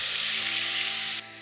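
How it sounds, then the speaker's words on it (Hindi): Jumbo prawns frying in a small pot of hot oil, a dense, steady sizzle and crackle filling the short span without any talk, dropping slightly in loudness near the end. "एक एक झींगा रखेंगे वरना ये आपस में जुड़ जाएंगे"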